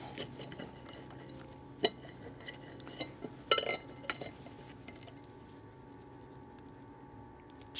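A knife and plate clink sharply several times while a toasted ham and cheese sandwich is cut, quiet scraping between the scattered close-up metallic taps.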